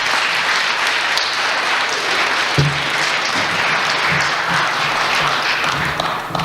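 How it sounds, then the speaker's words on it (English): After talks at an evening event, a crowd gives the speakers a sustained round of applause, a broad even wash of clapping with a few louder thumps and no voices over it. "Just another quick round of applause for our speakers."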